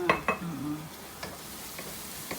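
Ingredients for red Thai pasta are stirred and browned in a pan, giving light scraping taps and a faint sizzle, with a brief voice at the start.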